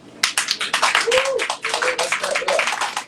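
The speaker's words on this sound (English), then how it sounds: "Let's clap it up." Audience at a live panel event claps in a quick, uneven burst, close and fairly loud, with a brief vocal whoop over the applause.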